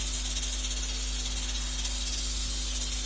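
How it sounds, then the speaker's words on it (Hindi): Pressure cooker whistle hissing steadily while mutton paya cooks, a loud continuous close-up jet of steam with a low hum underneath, unbroken for the whole stretch. "ये देखिए सीटी कैसे चल रही है"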